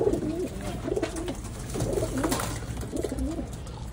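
Pigeons cooing in soft, repeated throaty phrases close by, over a steady low background hum, with no talking.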